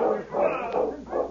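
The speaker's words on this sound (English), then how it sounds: "there's a dog team coming into town from the east" Dogs of an arriving sled team bark and yelp in a radio drama sound effect, three loud overlapping bursts that carry close over a noisy bed.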